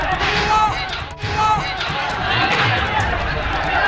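A rioting crowd during violent protests in Bangladesh, heard as a dense, continuous roar of shouting voices and commotion with a brief dip partway through.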